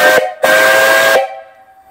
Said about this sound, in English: I'll blow this whistle here.